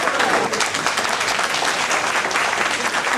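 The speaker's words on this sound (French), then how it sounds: "nous allons l'applaudir" Dense, steady applause from an audience at an induction ceremony held during a village grape-harvest festival in Courbevoie, sustained evenly throughout with no breaks.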